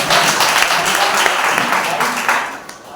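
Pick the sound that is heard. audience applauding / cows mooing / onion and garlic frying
audience applauding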